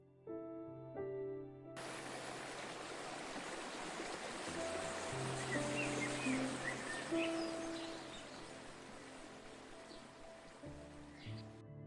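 A waterfall in Nepal's Tsum Valley, Manaslu Conservation Area, rushes with a constant broad hiss of falling water, steady and unbroken, with a few faint tonal notes at the start and end.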